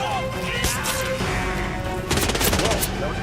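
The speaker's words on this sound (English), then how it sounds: "Whoa, that was a gunshot." Gunfire in a shooter video game, several sharp bursts and cracks over a busy game soundtrack, with a louder volley of rapid shots toward the end.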